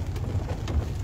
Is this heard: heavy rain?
yes